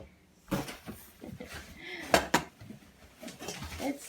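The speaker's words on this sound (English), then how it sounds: "This is the lid for the skillet." A new purple cookware set's skillet lid being handled on a table gives a few close metallic clanks and knocks, scattered unevenly, with a person's voice heard faintly alongside.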